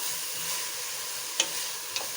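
Baby corn, carrots and French beans fry in a pan with a little oil, giving a soft, steady sizzle, with two sharp clicks from a stirring utensil against the pan.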